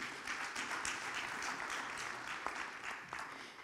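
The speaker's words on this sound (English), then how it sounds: "Give a big round of applause for him." A crowd at a live Telugu cinema event applauds a guest, producing a steady, fairly faint patter of many hands clapping together for a few seconds.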